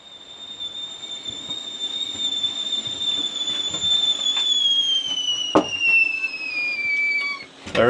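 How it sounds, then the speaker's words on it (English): A kettle whistles steadily on an autumn day in a Welsh kitchen, a shrill sustained tone sliding slowly downward in pitch over several seconds, with faint clinks and background clatter. "There is no sight better than a whistling kettle on an autumnal day."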